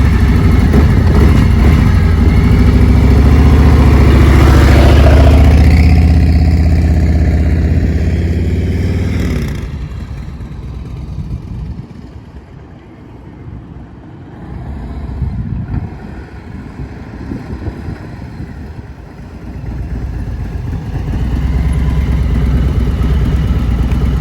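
A heavy cruiser motorcycle rumbles loudly at close range as it makes a U-turn, then its engine settles to a lower, quieter idle as it comes to a stop, before the rumble builds again.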